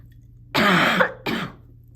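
Two loud, harsh coughs close by, a longer burst followed by a shorter one, with silence around them.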